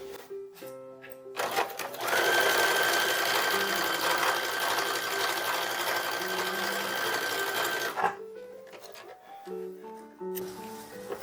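A sewing machine stitches a pleat on a 1930s-1940s style toddler dress, running in one loud continuous whir for about six seconds, with softer handling and short machine bursts before and after.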